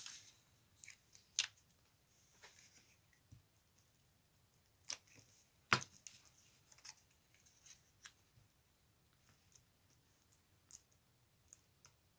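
Small scissors snipping out a little paper flower for a craft made from scraps, a series of crisp metallic clicks and cuts scattered irregularly over quiet room tone, near and fairly faint, without speech.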